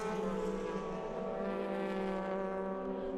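Race cars at the Inje circuit in South Korea during an Asian Le Mans Series round, a steady loud engine drone with a sustained whine and no pause.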